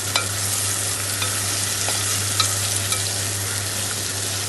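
Tomatoes and onions fry in a pan for prawn biryani, with a dense, even sizzle over a steady low hum and faint stirring taps.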